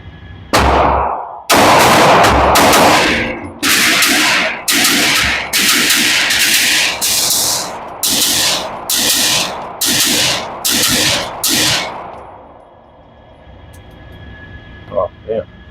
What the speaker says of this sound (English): So let's double tap this bad boy, and we'll just go dead center on that left target.